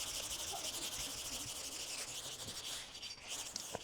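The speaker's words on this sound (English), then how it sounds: "I'm not looking here to really completely sand the hood" A sanding block rubs by hand across a car hood being prepared with body filler and primer, a faint continuous scratchy rasp with soft back-and-forth strokes and no talking.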